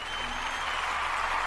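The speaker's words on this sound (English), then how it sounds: "Let's give a big hand clap" Congregation clapping hands during a church service, a continuous soft wash of many claps heard from a distance, faint and steady without talk.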